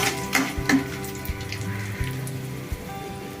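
Byadagi dried red chillies fry in oil in a pan for tomato chutney, a steady crackling sizzle with occasional stirring taps, close and continuous.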